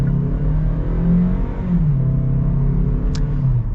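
Inside a 2022 Kia Sportage in sport mode, the engine drones loudly and steadily as it accelerates, its pitch climbing and then dropping as the 6-speed automatic shifts gears smoothly.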